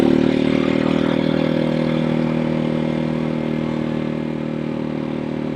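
A Janus Halcyon 250 motorcycle rides along with a steady, droning single-cylinder engine hum at an even pace, loud and close, its tone holding constant and slightly fading toward the end.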